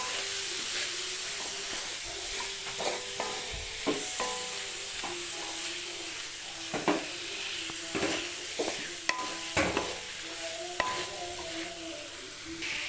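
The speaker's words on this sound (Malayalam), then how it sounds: "നമുക്കൊന്ന് നന്നായിട്ടൊന്ന് ഇളക്കി കൊടുക്കാം കേട്ടോ." Tomatoes stirred into frying masala for a crab curry: a continuous close hiss of frying with repeated scraping and clinking strokes of the spoon against the pan, no talk.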